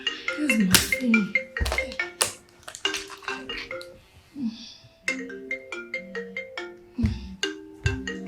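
A mobile phone ringtone plays a bright, tonal melody of quick repeated chimes and notes. It sounds fairly close and clear, with a brief pause in the middle before the tune resumes.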